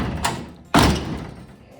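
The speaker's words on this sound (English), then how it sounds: "Door still shuts." A car door on a 1940 Ford is shut, giving a single close, solid slam after a softer earlier thump, in a quiet workshop.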